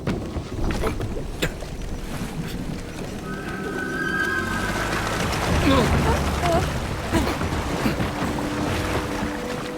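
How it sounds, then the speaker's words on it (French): A boat on a river in the video game Indiana Jones and the Great Circle, heard as a steady low rumble with water wash, mixed with horse whinnies and other game sounds while voices talk over it. "Un bateau. On va partir par la rivière?"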